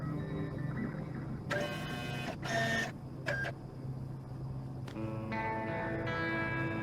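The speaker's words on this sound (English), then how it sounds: "Little 3D printer action." A 3D printer in a video game runs in short mechanical bursts and whirring passes separated by pauses, set against a steady ambient hum with some echo.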